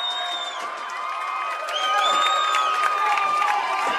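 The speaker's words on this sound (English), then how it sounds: "And the crowd is going crazy." A crowd at a high school boys soccer playoff game cheers after a tying goal, a loud sustained roar of shouts and whoops that swells halfway through, with an announcer talking over it.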